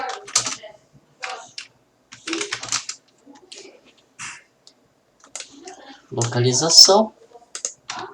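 Programming code typed on a computer keyboard, quick clusters of close key clicks and taps in irregular bursts with short pauses, someone speaking briefly between them.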